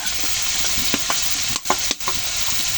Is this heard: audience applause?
no